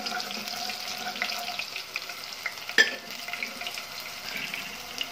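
Garlic, mustard seeds and black pepper fry in a generous pour of oil with a soft continuous sizzle, broken by light stirring clicks and one sharp knock of a utensil.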